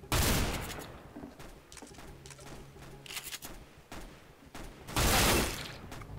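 Rapid bursts of gunfire in the video game CS:GO during a bomb-planting round against bots, loud and close, with several dense volleys spread across the clip and a heavy final burst near the end.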